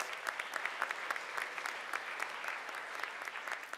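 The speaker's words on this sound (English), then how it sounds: "let's give Professor Emeritus King a round of applause" Audience applause at a university commencement ceremony, steady moderate clapping from a sizeable crowd throughout.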